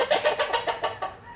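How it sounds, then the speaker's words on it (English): A hen clucks in a quick run of about eight short, rhythmic clucks that fade slightly toward the end, close and clear with no talking. "it's a hen because the roosters only make sound in the mornings"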